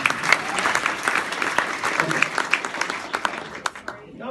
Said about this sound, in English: So, a round of applause for yourself.